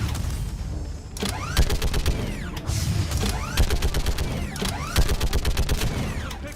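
Gunfire in the video game Mass Effect Legendary Edition, rapid repeated shots with sharp cracks and ringing mechanical echoes, loud and continuous over a rumbling low background, no talking.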